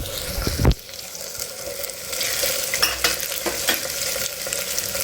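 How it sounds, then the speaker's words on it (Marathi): Potato pieces stirred in a pot over high heat for matka vegetable pulao, a sharp clatter near the start and then a continuous sizzling hiss with scraping stirs, with no talk. "छानपैकी हलवून घ्यायचं आहे"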